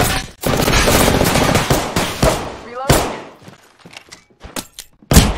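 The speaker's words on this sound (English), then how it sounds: "Taking fire, brothers." Gunfire in the video game Apex Legends: dense bursts of automatic fire and sharp single shots, loud and close, broken by short pauses and a few final cracks.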